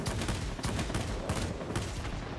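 Rapid machine gun fire from a World of Warplanes aircraft, dense continuous bursts with a fast regular rhythm, loud and close, heard alone with no talk over it.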